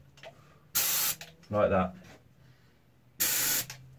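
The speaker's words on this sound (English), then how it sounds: "As a rule of thumb, I go about a fist and a half away when I'm spraying." An aerosol spray paint can fires two sharp, loud hissing bursts, each just under half a second long and close by, with a short spoken remark between them.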